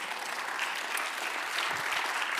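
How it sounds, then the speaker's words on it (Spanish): A church congregation claps together, steady dense applause that stays loud and continuous throughout, with no voices rising above it. "Dar un aplauso al Señor."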